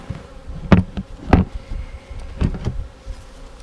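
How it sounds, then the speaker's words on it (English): Honeybees from a newly installed package buzz close by. The sound rises and falls in several loud passes as individual bees fly near, with no voices. "So I'll just move these bees around."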